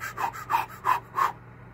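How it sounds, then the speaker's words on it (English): Rhythmic Lamaze-style breathing, in through the nose and out through the mouth, comes as four evenly spaced close breaths with audible exhales, alone and fairly loud. "I'm gonna do some Lamaze breathing."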